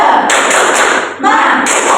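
An Indonesian elementary classroom doing the rhythmic 'tepuk semangat' clapping chant, with bursts of group claps in a steady pattern mixed with children's voices.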